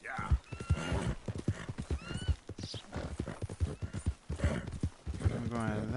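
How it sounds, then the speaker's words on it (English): Horse hooves clip-clopping in a steady rhythm with a neigh from a horse in the video game Red Dead Redemption 2, heard close and mixed with someone talking throughout. "Oh, he's a sturdy horse."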